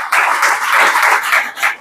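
At an army exam and physical coaching class, a group claps for a student, a dense, steady burst of many hands, close and loud, tapering off at the end.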